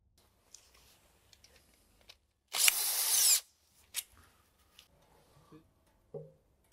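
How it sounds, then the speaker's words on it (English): A power tool unscrewing the oil pan bolts on an Audi S-Tronic seven-speed automatic transmission, one short loud whirring burst of under a second, followed by faint clicks and small handling noises. "As the next step, we now unscrew the oil pan from the transmission."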